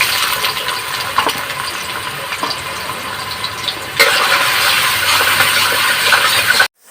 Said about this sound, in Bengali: সোয়াবিনগুলোকে ভেজে নিই, তেলে ছেড়ে দিলাম।